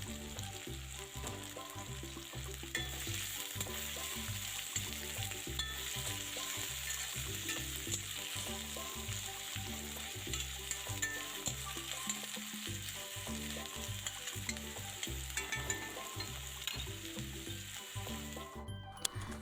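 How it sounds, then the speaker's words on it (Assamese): Sliced onions frying in oil in a kadai, a steady loud sizzle with bubbling crackle and occasional stirring scrapes throughout, no voices. "পিয়াজখিনি আগতে ভাজি উঠাই থৈ দিম"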